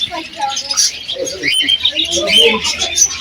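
Small parrots kept in glass boxes at a bird market chirp and twitter continuously, close and fairly loud, with faint market bustle underneath.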